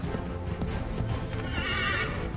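A horse gallops in the video game Assassin's Creed 3, with rapid rhythmic hoofbeats close by and a neigh or whinny near the end, all under a busy game soundscape.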